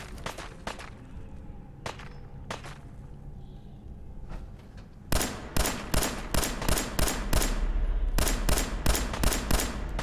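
Pistol gunfire in Fallout 4 on nightmare mode: a few scattered sharp shots at first, then rapid volleys of loud cracks in quick succession, close and punchy.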